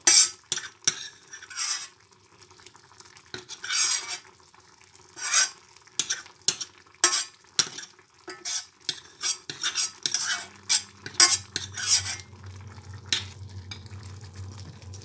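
A utensil scrapes and stirs lentils in a frying pan in irregular strokes, with a soft sizzle rising toward the end.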